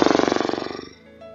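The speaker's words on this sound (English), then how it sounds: "You can even flutter the lips." A loud exhaled breath flutters the lips in a rapid, buzzing trill that slows and fades within about a second, close and alone.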